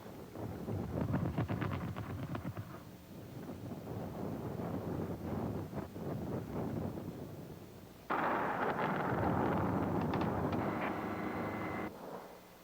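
An outdoor mining blast set off by mining engineering students gives a deep, broad rumble that swells, then a sudden louder roar that holds for a few seconds before cutting off, with wind buffeting the microphone throughout.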